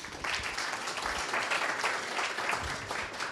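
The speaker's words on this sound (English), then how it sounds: "Another applause, please." Audience applause at a cybersecurity meetup, a steady patter of many hands clapping together, sustained and fairly close, with no speech over it.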